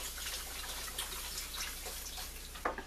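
Milk pours steadily into a pan with oil for gravy, a soft continuous trickling and splashing heard faintly and close up, ending with a small splash.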